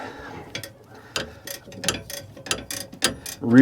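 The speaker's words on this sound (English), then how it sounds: "now we're going to run it the rest of the way in with a wrench" A ratchet wrench turns a bolt to press a bearing into a Bobcat axle, producing a close series of sharp clicking ratchet strokes in an uneven rhythm, with a short grunt-like sound at the end.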